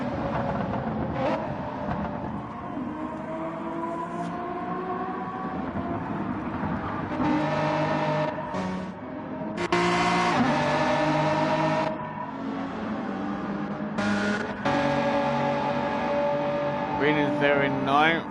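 A race car leaves the pit lane on medium tyres in a racing video game, its engine drone steady and fairly loud with pitch shifts as it moves, under continuous commentary.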